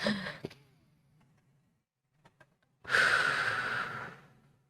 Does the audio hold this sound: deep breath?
yes